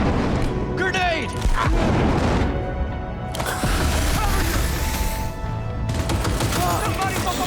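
Grenade blast and gunfire in the video game Cyberpunk, a dense, loud barrage of booms and rapid shots that fills the whole stretch, with shouting voices mixed in.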